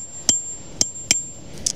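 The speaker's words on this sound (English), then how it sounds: "we're going to use a hammer and chisel for this one" A hammer drives a chisel into limestone around a fossil, giving three sharp ringing metallic strikes spaced about half a second apart and a softer fourth clink, close and clear.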